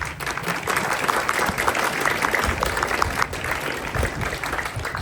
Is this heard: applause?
yes